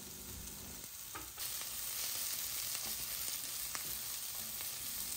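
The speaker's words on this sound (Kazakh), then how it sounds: "Болгар борщын 1-2 минут қозғап, қуырып алдық" Bulgarian peppers frying with onions in a pan, giving a steady, loud, dense sizzle with occasional stirring scrapes throughout.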